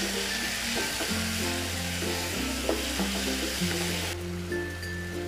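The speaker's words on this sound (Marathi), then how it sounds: "आपण टॅमॅटो घालून घेऊया, मिक्स करून घेऊया व्यवस्थित." Chopped tomatoes sizzle and are stirred in a hot pan while cooking chole, a steady, close frying crackle with scraping stirs over a constant low background hum.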